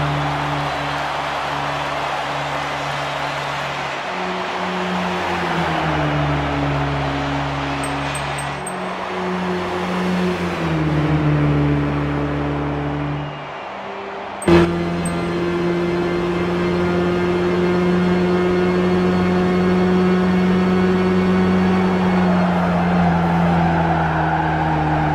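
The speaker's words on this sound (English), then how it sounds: "today we are doing a test lap of the 2008 Renault Megane Sport from the Gran Turismo 5" A stock 2008 Renault Megane Sport in the Gran Turismo 5 video game laps the Twin Ring Motegi Super Speedway. Its engine drones loud and steady, with pitch dips at gear shifts and a sustained high-rev whine between them.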